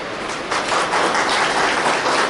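An audience at a spiritual memorial gathering for a fifth death anniversary applauds in a dense, steady wash of many hands clapping together, moderately loud and continuous, with no talking over it.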